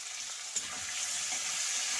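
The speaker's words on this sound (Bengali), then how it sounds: "একসাথে ফোড়ন দিয়ে ভেজে নিচ্ছি" Potato pieces sizzle steadily in hot oil with whole tempering spices, a continuous close hiss with no talking.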